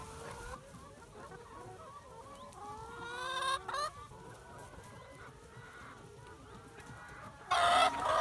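A flock of farm chickens clucks and calls steadily outdoors in the morning, with overlapping squawks and a few louder close cries near the end, after being moved to a new pen.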